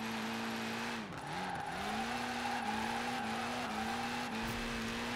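Forza Horizon 4 drift car held in a long slide through a drift zone, engine droning at a steady pitch with a brief dip and recovery, tires squealing continuously, loud and close with no talk.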